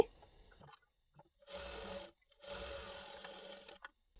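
A sewing machine stitching the front part of a lehenga blouse runs in two close, steady bursts of rapid mechanical whirring, with short pauses and light handling noises between them.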